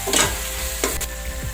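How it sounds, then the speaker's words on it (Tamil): Ginger garlic paste fries in a pan for prawn biryani in a pressure cooker, a steady close sizzle broken by several sharp spoon scrapes and clinks as it is stirred. "இஞ்சி பூண்டு பேஸ்ட் போட்டு இதை ஒரு 5 நிமிஷம் நல்லா கிண்டி விடுங்க"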